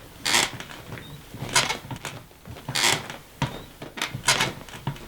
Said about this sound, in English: this is how squeaky my old one is.